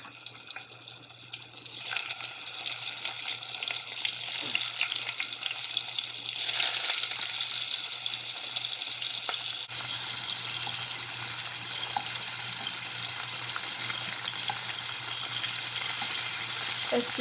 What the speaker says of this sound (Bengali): এখন চিংড়ি মাছটি তেলে ভাজবো।